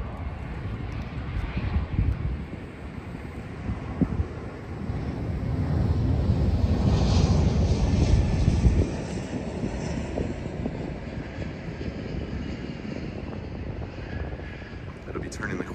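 Fixed-wing airplane departing San Diego airport, a broad engine roar that swells to a peak around the middle of the stretch and then holds steady, heard from a distance through wind buffeting on the microphone.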